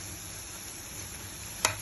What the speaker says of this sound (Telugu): చక్కగా వేగుతుంది